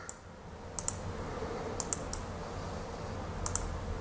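A computer mouse clicking while the user works in survey software, with a few quiet sharp clicks, some in quick pairs, over faint room hum.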